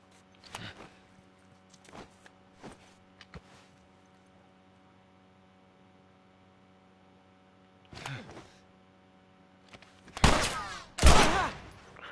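Gunfire in the video game The Last of Us: a few sharp, scattered shots early on, a pause, then a louder cluster of heavy blasts near the end over a quiet hum.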